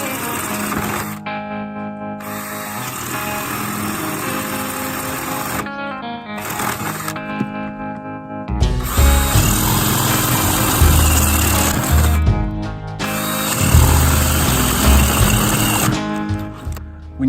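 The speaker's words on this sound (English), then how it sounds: "When you're drilling with a paddle bit through PVC," A power drill with a paddle bit whines at high speed, stopping and starting several times, with a rougher, louder grinding as the bit cuts through PVC.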